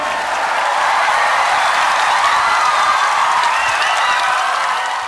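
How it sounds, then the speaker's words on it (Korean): A studio audience at a Korean TV comedy show breaks into steady, dense applause with some cheering, loud and unbroken throughout. "박수 한번 주세요"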